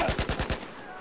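SAR-21 rifle firing in Battlefield 4 on PS4: a quick burst of five sharp, punchy shots in rapid even rhythm, then a short fading tail.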